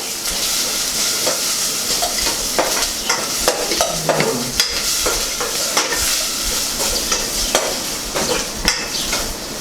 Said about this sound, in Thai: เราก็จะผัดให้หอมๆนะคะผัด